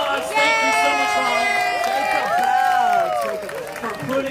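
A crowd at a San Diego Zoo show claps and cheers for the mothers in the audience, with a lively mix of applause and excited voices, some children's, filling the space.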